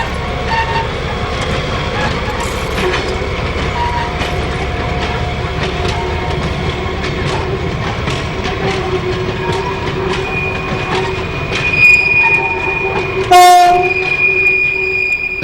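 A Class 08 diesel shunter locomotive hauls empty wagons back toward the works, its steady engine drone and rolling rail noise continuous throughout, with a sharp metallic squeal or horn-like tone rising near the end.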